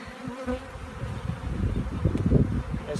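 Honey bees buzz in an opened hive, a dense close-up drone of many wings humming continuously and swelling slightly louder toward the end, with no voices.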